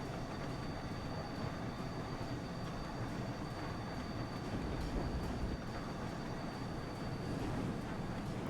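A train in Train Sim World 4 on the Niddertalbahn line between Bad Vilbel and Stockheim rolls along steadily, a continuous loud rumble of wheels and rails with a faint high whine held throughout.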